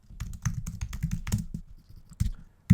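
Rapid, uneven keystrokes on a computer keyboard while notes are typed, close and clear with short pauses between bursts and a final louder tap.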